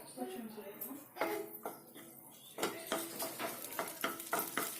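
Chopped garlic pieces frying in a pan, a soft sizzle broken by repeated spoon scrapes and clinks as it is stirred, fairly quiet and close.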